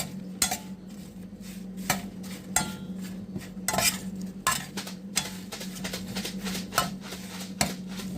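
A metal spoon scrapes and clinks against a pot while pepper powder is stirred into food, irregular taps and scrapes over a low steady hum.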